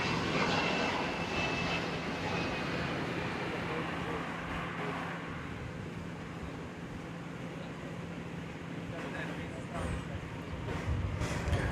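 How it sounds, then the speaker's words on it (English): An Airbus A300 cargo jet at DFW Airport rumbles steadily as a loud, sustained engine roar that swells slightly near the end, with faint background noise throughout. "A mighty A300."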